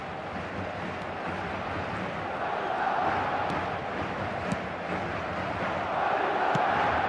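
Stadium crowd noise from an eFootball video game match, a steady loud roar of massed voices that swells toward the end, with a few sharp clicks.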